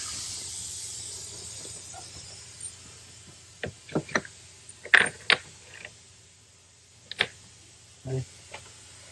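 A Torx ratchet backs out the fuel injector bolts on a Ford F-350, with scattered short metallic clicks and ratcheting bursts separated by quiet pauses over faint background hiss.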